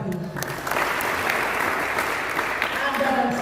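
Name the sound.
applause for God in church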